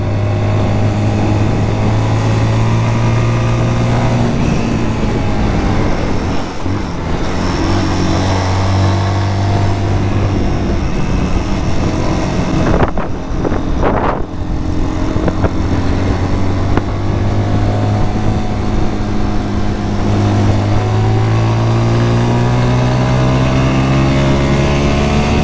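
A 2023 Zontes GK 350 motorcycle engine drones steadily while riding, its loud continuous tone rising and falling with throttle changes under heavy wind rush.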